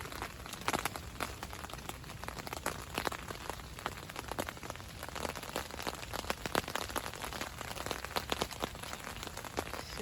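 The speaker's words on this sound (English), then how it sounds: "listening to the sound of the rain." Rain drumming on a Tigris Scaena tent, heard from inside: a steady dense patter of drops on the fabric with sharper individual taps scattered throughout, continuous for the whole stretch and no talk.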